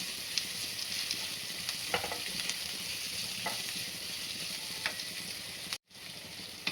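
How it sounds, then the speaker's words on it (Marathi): Onions stir-frying in a pan for Hakka noodles, a steady bright sizzle with intermittent soft taps and scrapes of the spatula, briefly cutting out near the end. "कांद्याला 2 ते 3 मिनिटं असं चांगलं परतून द्यायचे"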